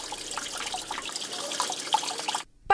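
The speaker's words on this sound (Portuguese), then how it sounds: "Parece o som de uma cachoeira, mas na verdade é água pura sendo desperdiçada." Clean drinking water leaking and running down a public stairway in Itacibá, Cariacica, a steady rushing trickle and splash like a small waterfall, continuous and fairly close, cutting off near the end.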